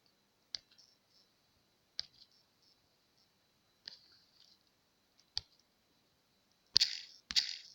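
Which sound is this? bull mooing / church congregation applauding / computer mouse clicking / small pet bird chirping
computer mouse clicking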